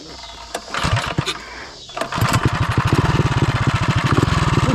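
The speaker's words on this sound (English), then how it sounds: "The idle's high on startup and low once it warms up." After a brief rough start, a Coleman B200RSV mini bike engine settles into a fast, steady idle with an even putter. It runs close and loud, while a voice talks near the start.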